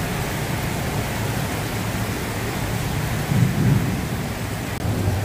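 Heavy rain pours down on the tents of a Ramadan bazaar in Durian Tunggal, Melaka, a loud, dense, constant hiss with a brief swell of deeper rumble partway through.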